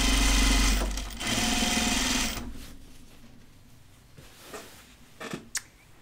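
A sewing machine stitches stretch denim for pull-on jeans, running loud and steady for a couple of seconds, pausing briefly, running again, then stopping with a few small clicks and handling noises.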